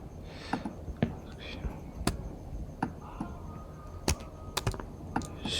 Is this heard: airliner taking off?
no